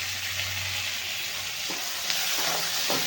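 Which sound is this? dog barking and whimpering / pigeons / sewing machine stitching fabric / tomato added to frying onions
tomato added to frying onions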